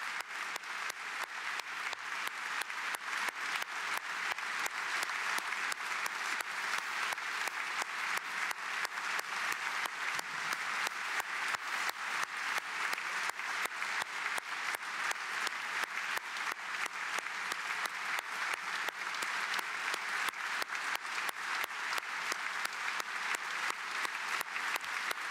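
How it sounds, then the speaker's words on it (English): Sustained standing-ovation applause filling the House of Commons chamber and packed gallery, a continuous dense roar of many hands clapping, steady and even throughout with no talk. "receiving the applause of a packed House of Commons, a packed gallery,"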